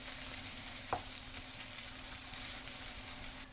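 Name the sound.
stirring cooking ful (fava beans) in a pot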